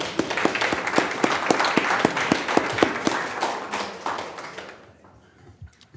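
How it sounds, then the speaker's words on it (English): An audience at a Dayton Board of Education business meeting claps, starting with sharp distinct claps that thin out and fade to a few scattered ones over about five seconds. "I think that deserves another round of applause."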